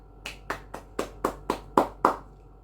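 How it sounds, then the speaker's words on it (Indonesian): Eight sharp, evenly spaced claps in a classroom during a teaching simulation, close and clear, with a quiet pause between each clap and no talking over them. "Tepuk tangan untuk Fahra."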